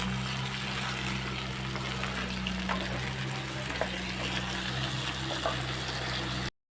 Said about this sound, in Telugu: ఆనియన్ పచ్చిమిర్చి బాగా ఫ్రై అవ్వాలి ఇలా ఫ్రై అయిన తర్వాత టమాటా వేసుకోవాలి